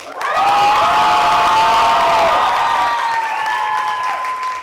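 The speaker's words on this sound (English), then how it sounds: "Let's hear one more round of applause." A crowd applauds and cheers loudly at an arts faculty showcase, with sustained whoops and shouts over steady clapping that stays near and full before easing slightly.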